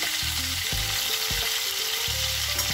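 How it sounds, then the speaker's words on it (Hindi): Paneer cubes fry in a hot pan with a steady, loud sizzle, broken by a few soft scraping stirs at intervals; no one speaks. "तो पनीर हो रहा है फ्राई"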